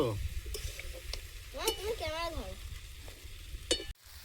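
Winter vegetables sautéing in a pan for khichuri, a moderate sizzle under scattered clinks and stirring scrapes, with a brief tonal whine in the middle and a sudden clunk near the end.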